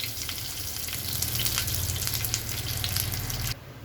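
Mustard seeds and curry leaves sizzle and crackle steadily in hot oil, a loud, continuous close-up fry that cuts off abruptly near the end.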